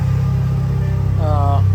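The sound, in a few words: car engine idling after timing belt tensioner work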